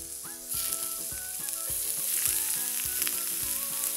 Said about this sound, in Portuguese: a gente vai pôr aqui na frigideira com um fiozinho de azeite para poder dar uma selada nele